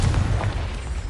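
A Confringo fire spell explodes in the Hogwarts Legacy video game, a loud, deep, rumbling blast that fills the whole moment with continuous booming noise.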